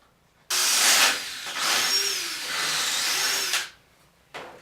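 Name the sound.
barrel trimmer trimming pen blank down to brass tube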